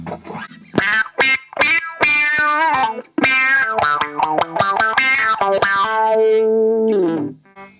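Humbucker-equipped electric guitar through a Carl Martin Ottawa AutoWah set to high pass, producing quacking, vowel-like wah on staccato chord stabs, then a held note that rings out and fades; loud and close, played alone.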